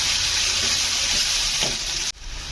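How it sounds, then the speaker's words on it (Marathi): Finely chopped onion sautéing with cumin seeds and curry leaves in a pan gives a loud, dense, continuous sizzle up close, with light stirring, before it cuts off abruptly near the end. "बारीक चिरलेला कांदा कांदा चांगला परतून घेऊया"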